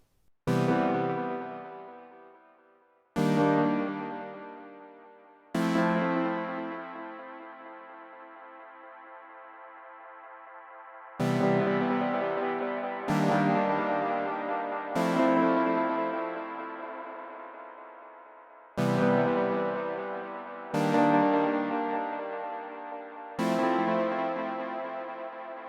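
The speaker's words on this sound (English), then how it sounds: "Let's try the tape delay." Chords from a Cherry Audio DreamSynth software synthesizer run through its tape delay effect, each struck chord decaying with a soft trailing echo, played alone in slow, spaced repetitions.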